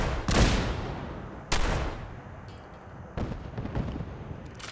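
Heavy booming shots from a combat cannon firing cannonballs in a modded Fallout 4 game, three loud separate blasts spaced about a second or more apart, each trailing off into rumble.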